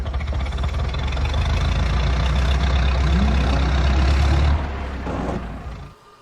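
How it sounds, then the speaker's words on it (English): A car engine starts up outside at the front of a house, a steady heavy low rumble that idles loudly and close, then drops in level and fades out at the end. "the car start up outside the front."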